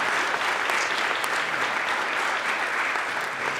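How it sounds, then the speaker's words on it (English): Audience applause for a panel at an annual education conference, a dense steady wash of clapping from a large room, loud and continuous throughout with no voices over it. "can we give them a round of applause for all of the responses"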